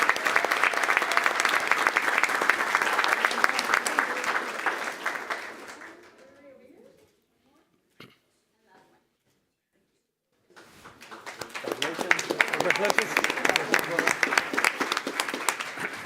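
Applause from the audience at a school district board meeting, honouring a coach of the year. A full round of clapping fades out into a few seconds of silence, then a second loud round builds back up and carries on to the end.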